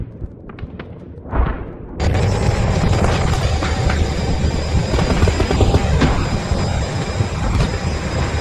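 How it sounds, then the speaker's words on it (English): Russian combat helicopters crash into city skyscrapers: a few faint knocks and a rising whoosh give way to a sudden loud, sustained roaring blast with rumbling, rattling debris that stays dense to the end. "A massive explosion erupts in the sky"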